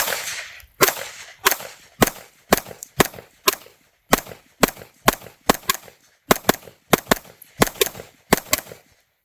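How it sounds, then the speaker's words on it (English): An FN Five-seveN MkIII MRD pistol fires a 20-round magazine at an outdoor range, loud close sharp shots in a steady, slightly uneven rhythm, each crack ringing briefly before the next. "we are going to run our first magazine through it"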